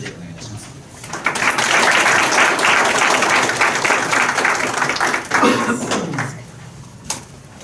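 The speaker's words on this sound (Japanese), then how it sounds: "拍手でお願いいたします。" Audience applause at a university teaching award ceremony in a lecture hall, a sustained dense burst of clapping from a large crowd that swells quickly, holds steady for several seconds, then tapers off with a few stray claps.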